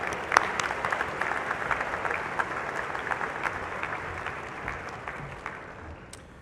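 Commencement audience at a morning undergraduate graduation ceremony applauding, a steady, moderately distant wash of clapping from a large crowd that gradually fades toward the end.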